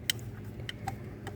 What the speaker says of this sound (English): These are Baby Ben West clocks.